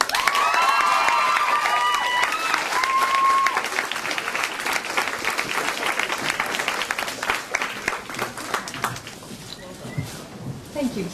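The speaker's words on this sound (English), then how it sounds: "a huge Canadian round of applause, Ann Brashares." Loud applause from a bookstore audience welcoming author Ann Brashares, dense clapping mixed with whistles and cheers that holds steady for several seconds, then thins out toward the end.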